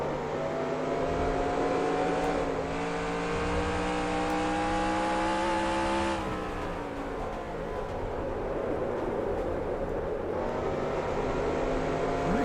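A NASCAR stock car engine in NASCAR Racing 2003, driven at Richmond with next-gen custom physics, revs steadily high with rising whine through gear changes, loud and close, droning continuously with no talk.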